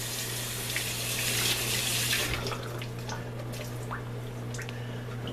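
Cold tap water runs into a sink to soak a towel for tanning fish skin. The strong, steady rush eases partway through into a lighter splashing trickle with drips, heard close up with no talking.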